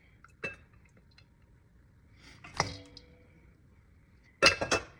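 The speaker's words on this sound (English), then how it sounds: "So I'm gonna dump the colander into this bowl again." A colander dumped into a glass bowl gives a few sharp clinks and clatters: one short knock, a louder clank, then a cluster of ringing glassy hits at the end, with quiet gaps between.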